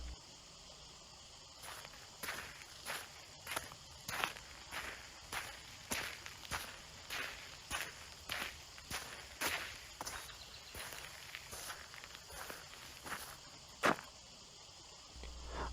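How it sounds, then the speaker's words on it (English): Muffled footsteps crunch through dry foliage in a forest, an even walking rhythm of soft rustling steps under faint insect chirping, with no voices. "As I was walking, I hear muffled footsteps behind me."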